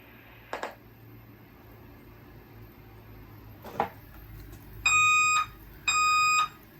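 Two long electronic fire alarm horn blasts during a fire alarm system test, each about half a second, sounding alone after a few faint clicks and thumps.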